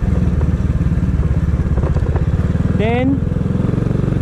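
A semi-automatic motorcycle runs in second gear with a steady, close, rapid putter, while a person talks over it and a brief rising whine appears.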